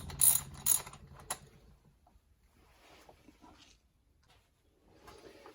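Ratchet clicking while undoing 10 mm engine cover bolts on a 2000 Toyota Sienna, two loud bursts of rapid clicks up front, then quieter intermittent ratcheting and handling noises nearby.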